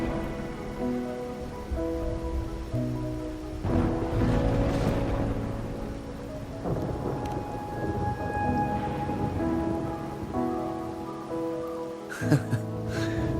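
Rain falls in the video game Wuthering Waves, a steady patter with rolling thunder, mixed under sustained musical tones and a brighter crash near the end.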